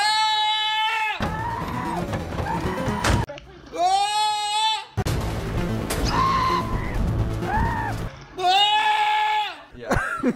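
A person imitates a scream several times, long shrill vocal wails with bright harmonics broken up by bursts of laughter and chatter between attempts.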